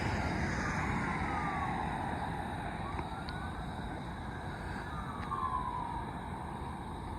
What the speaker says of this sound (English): More sirens, man.